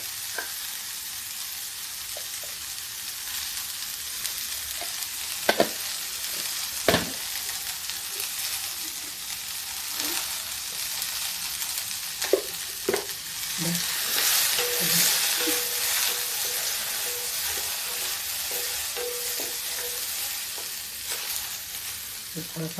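Small potato pieces fry in a pan with a pinch of turmeric, giving a continuous crackling sizzle punctuated by occasional spoon clinks and stirring scrapes, with no talking.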